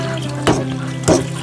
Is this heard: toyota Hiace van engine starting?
no